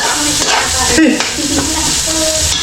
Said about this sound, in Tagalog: Yan, gisa muna tayo.